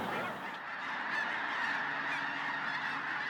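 Cranes calling in a steady chorus of honking cries as a flock takes off into the wind at a crane festival, a continuous layered clamor at moderate distance with no pauses.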